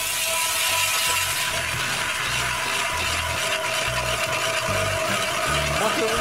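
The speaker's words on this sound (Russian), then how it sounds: "Рыбалка начинается со сверления лунки." A two-handed hand auger bores a hole through lake ice while ice fishing in Karelia, giving a steady grinding, rasping scrape with a rhythmic low churn as the handle turns, close and continuous.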